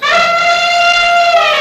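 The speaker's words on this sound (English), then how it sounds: "Elephant." An elephant trumpets in one steady, bright, nasal call that holds for under two seconds, loud and close, with no other sounds around it.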